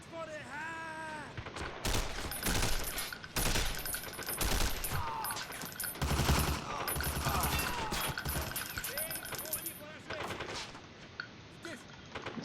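Rapid gunfire from a video game set in a wasteland fills the scene, dense bursts and fusillades of automatic shots with brief lulls, loud and close, while voices talk over parts of it.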